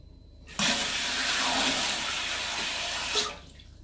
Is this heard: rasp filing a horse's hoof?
no